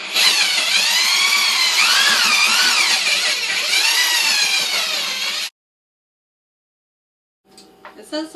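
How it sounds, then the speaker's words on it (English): A power drill with a mixing paddle stirs floor leveling compound for a kitchen floor remodel, whirring loud and steady for about five seconds with the pitch wavering as it works the mix, then it stops and a faint voice follows. "I have a little tool that you put on the drill and it spins around."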